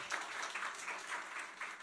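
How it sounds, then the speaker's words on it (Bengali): Steady, faint applause from a full-house audience at a startup-funding panel discussion, with many hands clapping evenly throughout and no voices above it. "আপনাদের জন্য একটা হাততালি"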